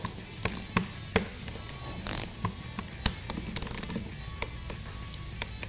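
A ratchet tightens the supplied bolts on an AMP Research PowerStep running-board kit for a Dodge Ram 1500, giving a series of sharp clicks and taps in an uneven rhythm, close up with no talking.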